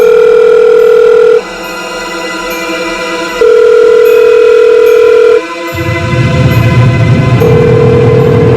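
A telephone ringback tone sounds loud and close in steady on-off pulses, with a call that goes unanswered while background noise swells between the tones.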